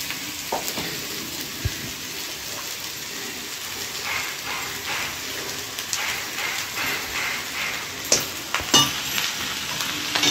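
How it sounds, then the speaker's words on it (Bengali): Rice, mutton, eggs and potatoes are stirred and fried together for biryani, a dense rain-like sizzle running throughout with intermittent scraping and clanks of a utensil against the pot, near and unaccompanied by speech. "উপরটা ভালো করে নেড়ে এগুলোকে আমি ভালো করে একটু ফ্রাই করে নেব।"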